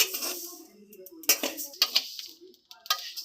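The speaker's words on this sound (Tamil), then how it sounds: "இதையும் அதே மாதிரி பொரிய விட்டு வறுக்கணும்." Whole spices for homemade masala powder dry-roasting in a metal pan, with sharp clinks and scrapes of a stirring spoon against the pan at irregular intervals, close and fairly loud, under a faint voice.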